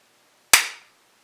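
A single sharp hand clap, loud and close, marking the start of a recording, with a quick decay into silence.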